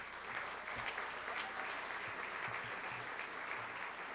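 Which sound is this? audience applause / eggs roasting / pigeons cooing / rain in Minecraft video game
audience applause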